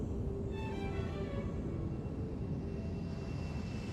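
An Emirates airliner takes off, a steady, loud engine roar with a broad rumble and a faint whining tone that drifts in pitch, heard from a distance and continuing without pause.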